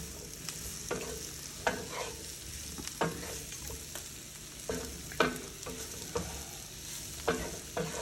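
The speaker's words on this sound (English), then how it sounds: "So we're just gonna keep on moving them around and sauteing them until that liquid comes back out." Mushrooms sautéing in a pan for coq au vin, a soft steady sizzle broken by repeated scraping stirs at irregular intervals, close and fairly quiet, with no talk.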